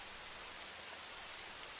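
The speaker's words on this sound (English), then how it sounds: "Outside, the rain patters steadily against the glass." Steady rain pattering against window glass, a soft continuous hiss of drops filling the whole stretch without pause or voices.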